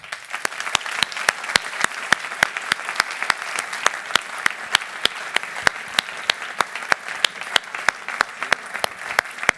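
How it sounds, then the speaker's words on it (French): Audience applause at a formal bar association ceremony in Bordeaux, with steady, sparse individual claps ringing out across the hall over a soft crowd background. "Merci de bien vouloir applaudir Monsieur Lucas Tabonne."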